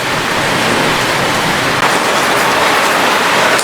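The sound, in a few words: rain falling in India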